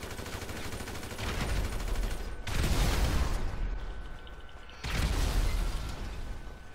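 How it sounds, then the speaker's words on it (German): Explosions and gunfire in the online video game GTA V Online: dense, continuous bursts of rumbling blasts and rattling shots that swell at intervals, loud and sustained throughout. "Wer ist denn hier schon wieder so explosionsfreudig?"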